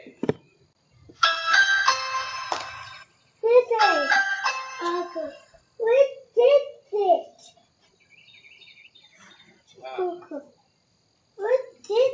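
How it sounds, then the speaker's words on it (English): A melodic electronic doorbell chime plays a short tune, followed by a voice and bursts of chatter with brief pauses. "Go ring the doorbell."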